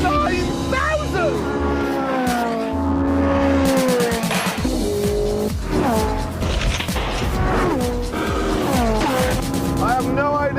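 Ferrari 458 with a 4.5-litre V8 revving hard toward 9,000 rpm on a road drive, its rising engine note loud and close, with someone talking over it throughout.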